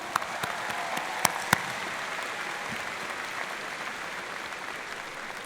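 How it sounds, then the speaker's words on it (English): A large commencement crowd at George Mason University claps in sustained, even applause, with a few sharper close claps standing out near the start before the sound settles into a steady wash. "Let's thank all of them with a big round of applause."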